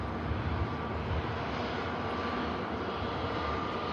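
An Airbus A320ceo with clamshell thrust reversers lands at Manchester Airport, a continuous broad roar of reverse thrust holding steady and fairly loud throughout.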